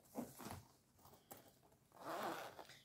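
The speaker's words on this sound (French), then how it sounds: "Il y a trois fermetures éclair." A zipper is drawn open on a pencil pouch, quiet close-up rasping in short bursts with a longer, fuller pull near the end, no talking.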